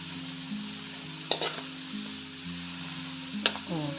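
Onions being stirred and sautéed in a pan sizzle gently beneath soft background music, with two sharp utensil knocks against the pan.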